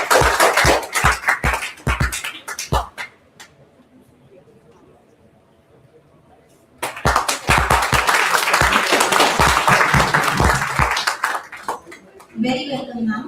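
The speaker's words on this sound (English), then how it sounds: "Please welcome ma'am with a huge round of applause." Audience applause at an international physiotherapy conference, with two bursts of clapping from a crowd separated by a quiet pause and mixed with talk in the hall.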